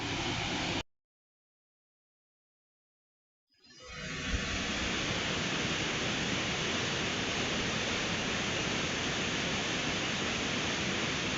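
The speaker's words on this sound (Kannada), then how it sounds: "ಮಳೆಗಾಲದ ಮಿನಿ ಜಲಪಾತ ಅಂತ ಹೇಳ್ಬೋದು ಇದನ್ನ" A small monsoon waterfall beside a rainy Malenadu road gives a steady, even rush of falling water that comes in after a short silence and continues unbroken, with no voices.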